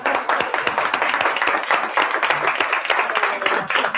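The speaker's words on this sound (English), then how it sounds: "give yourselves a very strong round of applause" Audience applause at a speaking event, many hands clapping in a lively, uneven patter close by, with faint voices mixed in.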